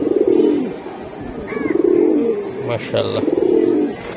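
Silver giribaz pigeons coo nearby in low, rolling repeated phrases, with someone speaking briefly over them.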